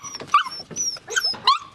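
Malinois puppy, the runt of a litter, whining and yelping in a rapid string of high, close cries with short growly bursts between them.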